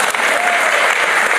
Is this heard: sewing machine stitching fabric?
no